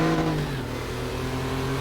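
A Porsche 911 race car in the RaceRoom racing game revs with a loud, continuous engine roar that holds its pitch steadily under throttle throughout, with no speech.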